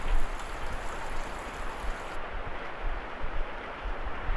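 Steady, dense hiss of rain falling in a forest, broadband and continuous throughout, with a faint hum underneath and no voices.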